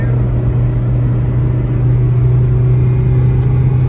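A car engine pulling in third gear, a loud, steady low drone with a strong constant hum and rumble throughout, close and continuous.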